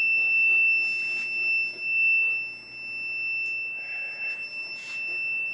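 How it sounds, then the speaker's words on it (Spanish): Warning alarm on a 10 HP Kaishan screw air compressor under overhaul: a continuous high electronic tone sounds steadily throughout, over a low machine hum with faint clicks, close and without talk. "continúa sonando la alarma"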